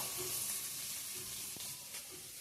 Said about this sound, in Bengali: পনিরটা এদিকে ভাজিয়ে রাখছি।